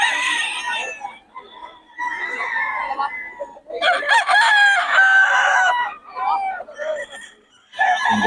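Gamecocks at a sabong breeder gathering in Bocaue crow and cluck loudly and close by, with repeated crows overlapping in bursts and short pauses between them.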